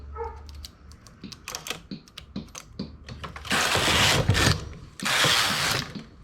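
Carriage of a knitting machine with a ribber bed, making a series of clicking, ratcheting mechanical ticks that build into two longer, louder sliding whooshes as the carriage sweeps across, close by with no talking.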